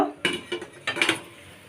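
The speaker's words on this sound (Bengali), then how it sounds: "এবার ঢাকনাটা খুলে দেখব" A metal lid lifted off a cooking pot of steaming chital fish muitha dumplings, with several sharp clinks and scrapes of metal against metal in short, close bursts, then a quieter tail.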